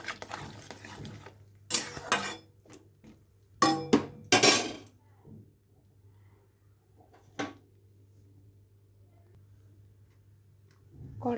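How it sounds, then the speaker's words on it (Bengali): Mushrooms are stirred in hot water in a metal pot, with bursts of clinking and scraping from the utensil against the pot, followed by a long, nearly quiet stretch. "গরম জলের মধ্যে দিয়ে ভালোভাবে একটু নেড়ে চেড়ে এটাকে নামিয়ে ভালো করে আবার ধুয়ে নেব"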